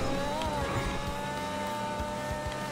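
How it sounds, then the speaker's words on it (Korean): In the video game GTA5, the Grotti X80 Proto supercar engine hums in a steady high-pitched drone while driving at speed, continuous and fairly loud. "엔진 소리 너무 좋은."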